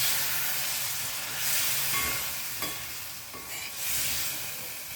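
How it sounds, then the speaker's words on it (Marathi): Loud, continuous sizzling and hissing from a hot pan, swelling in bursts as splashes of water hit the frying masala for jackfruit seed curry. "याला विसळून आपण थोडं थोडं ह्याच्यामध्ये पाणी सोडूया अगदी थोडं थोडं सोडायचं आणि परतायचं"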